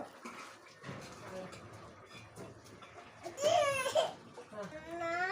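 Cooking liquid strained off boiled black-eyed beans (cowpeas), a short run of pouring, trickling water mixed in with a person talking nearby.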